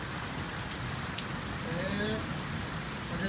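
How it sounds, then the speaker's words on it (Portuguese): Steady rain patters on surfaces close by during a thunderstorm in Santo Ângelo, Rio Grande do Sul, Brazil, a dense continuous hiss with a few faint tonal sounds in the background. "Agora a chuva tá diminuindo."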